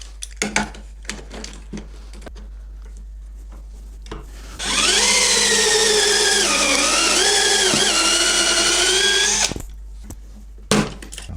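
A power drill whines loudly for about five seconds as the bit bores a pocket hole into wood using a pocket hole jig, pitch dipping under load, with clicks and handling noise before and after.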